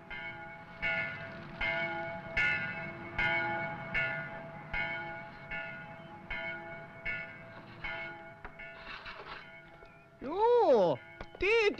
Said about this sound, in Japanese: 村の教会の鐘よ。